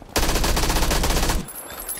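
Automatic gunfire in PlayerUnknown's Battlegrounds, a loud, fast continuous burst of close shots lasting just over a second, then cutting off abruptly to quiet.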